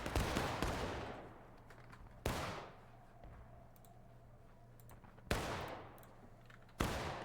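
Musket volleys in a battle game fought around a limestone bridge, sharp reports at intervals over a steady low rumble, some shots near and loud, others scattered and fainter.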